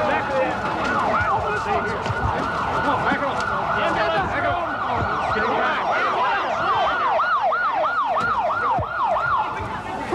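Ambulance siren wailing and yelping in a fast repeating pattern, loud and close, over crowd noise and the murmur of people talking.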